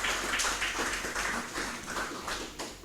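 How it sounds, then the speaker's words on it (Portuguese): Applause at a public hearing on renaming a street: a small crowd claps steadily for about three seconds, the sound even and moderately close, then fading slightly at the end. "Eu peço uma salva de palmas"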